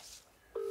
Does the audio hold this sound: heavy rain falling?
no